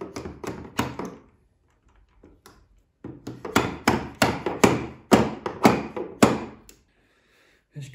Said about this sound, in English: tape off your receiver and use a normal hammer